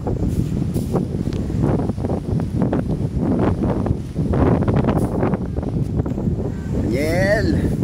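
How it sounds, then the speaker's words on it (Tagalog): Wind gusts buffet the microphone at a coastal resort beside a swimming pool, a steady loud rumble that runs throughout, with a brief whistling tone near the end. "Mahangin kasi."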